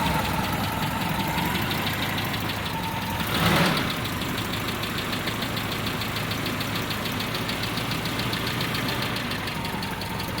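A dirty, oil-leaking carbureted four-cylinder Toyota MR2 engine idles steadily and close by, a continuous rough hum with a brief louder swell around the middle and no talking.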